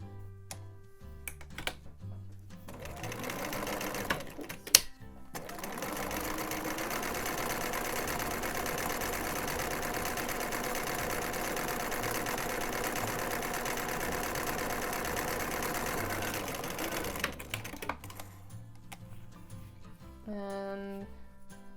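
A sewing machine runs a double overlock stretch stitch on knit fabric in one long, loud, steady burst of about twelve seconds, with brief starts, clicks and handling sounds before and after.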